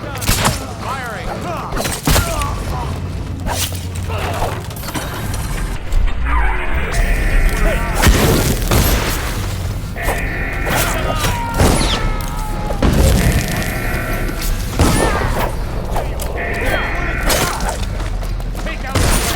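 Loud gunshots and booming explosions in the stealth action game Dishonored, with sharp impacts, shattering and clattering debris repeating throughout a chaotic fight, while in-game voices shout underneath.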